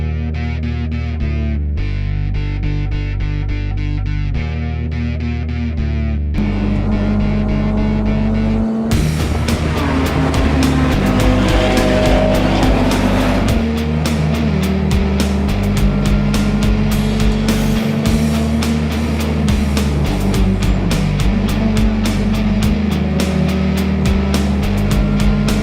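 Race car engines at the start of an endurance race in Hungary: steady tonal revving that shifts pitch in steps, then a louder, denser rush of many cars joining in. No voices.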